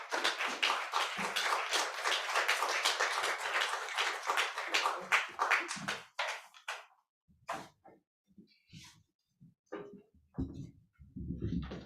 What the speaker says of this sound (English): Please give a warm round of applause as they set up to Ebony Strings.